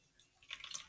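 Clear slime activator solution is poured in, a faint, brief liquid trickle with a few small splashes that grows slightly louder toward the end, with no talking.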